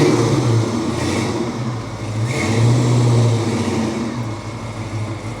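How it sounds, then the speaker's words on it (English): A truck engine hums and revs at low speed while backing up, rising and falling steadily as it maneuvers, with no talking. "Go ahead and back it in, Puckett."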